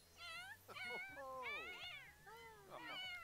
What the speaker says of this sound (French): Oh, ça fait une myriade de chats.